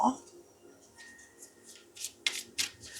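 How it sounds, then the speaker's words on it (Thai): Oracle tarot cards are shuffled close up, giving several quick papery riffles and soft rubbing swishes that grow louder toward the end. "เดี๋ยวเรามาเปิดไพ่ อันนี้นะคะของแม่หมอ"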